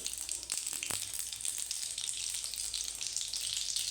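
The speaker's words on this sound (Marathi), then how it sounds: "दोन पळ्या तेल टाकलं त्यात जिरे मोहरी" Cumin and mustard seeds sizzle in hot oil in a pan, a close, continuous crackling hiss with a few sharper pops near the start.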